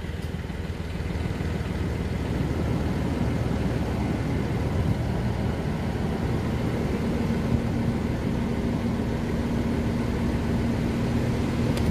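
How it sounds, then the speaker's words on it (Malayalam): A Chevrolet Beat engine idles with the A/C switched on, giving a steady, even drone with a faint tonal hum that runs unchanged throughout. "ഇഗ്നിഷൻ ഓൺ ആക്കി എസി ഓൺ"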